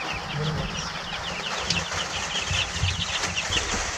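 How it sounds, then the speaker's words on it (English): About thirty Freedom Ranger chickens in their pen on a farm give soft clucks and chirps under a steady outdoor background, with occasional rustling of wings, moderately close. "So we have about 30 birds in there. These are Freedom Rangers."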